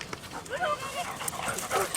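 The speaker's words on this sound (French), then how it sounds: "Ils aboient." Young sheepdogs at a socialisation session give high, whining yips and short barks in quick bursts, fairly faint and mixed with people talking nearby.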